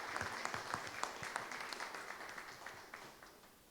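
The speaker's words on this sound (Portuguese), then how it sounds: "Peço uma salva de palmas em memória a todo esse contexto histórico da nossa diocese." Applause at a municipal council extraordinary session honoring a diocese's 40th anniversary, a faint room full of scattered clapping that thins and fades over a few seconds.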